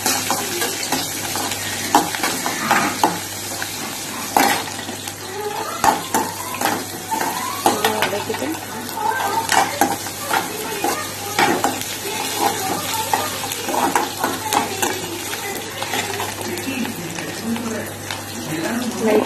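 Garlic, ginger and green chilies frying in hot oil in a pan for a village-style crab kuzhambu, with a steady loud sizzle and frequent scraping stirs close by, over a constant background.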